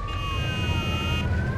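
A car alarm wails in the open-world video game Mafia II, a loud rising and falling electronic siren over steady engine and street rumble.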